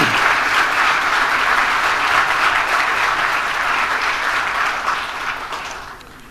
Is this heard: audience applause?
yes